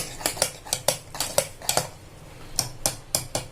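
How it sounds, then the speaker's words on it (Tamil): Cooked rice for sambar rice being mashed in a metal vessel, a quick run of sharp clinks and taps from a spoon striking the pot in an uneven rhythm, close and alone. "மசிச்சுக்கிறேன். அரிசியை கொஞ்சம் சாதத்தை கொஞ்சம்"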